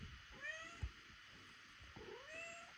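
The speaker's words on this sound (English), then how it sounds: "And if you hear a cat meowing," A house cat meows several times, drawn-out calls with rising and falling pitch, fairly close but soft, alone with no talking over it.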